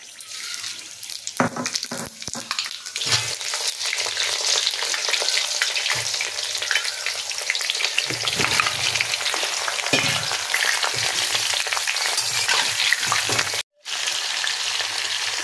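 Whole spices for mango pickle sizzle in hot oil, a loud, continuous crackling hiss close up with a few sharp pops and stirring sounds, briefly cutting out near the end.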